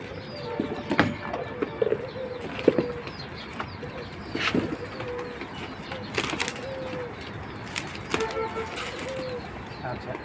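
Pigeons coo repeatedly in a loft, soft rolling calls overlapping at close range, with occasional wing flaps and someone talking intermittently over them.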